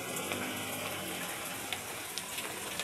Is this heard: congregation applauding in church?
no